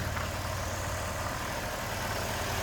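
A cheap used car with a check engine light idles with a steady, close rumbling hum, overlaid by a constant airy hiss of the intake sucking air.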